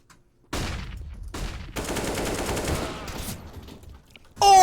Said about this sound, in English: Run and gun, and he still hits the no-scope.